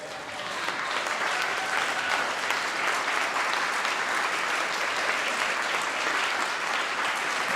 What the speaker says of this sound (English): It turned into a standing ovation.